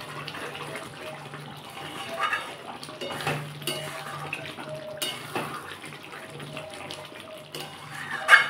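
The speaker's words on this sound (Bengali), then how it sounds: "ঢাকাটা খুলে আবার একটু নাড়িয়ে দিচ্ছি।" A pot lid comes off and coriander chicken curry is stirred, with metal clinks and spoon scrapes against the cooking pot over a low background hiss. A loud clatter lands near the end.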